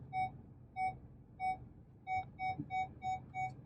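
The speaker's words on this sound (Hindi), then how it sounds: "जैसे आप देख सकते हैं वार्निंग बीप की फ्रीक्वेंसी बढ़ गई है" A car's rear parking sensor gives a warning of evenly spaced, clear electronic beeps that come faster and closer together toward the end as the car reverses nearer an obstacle.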